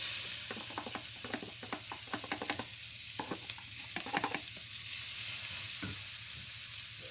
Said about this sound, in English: Onions in there, get them fried up.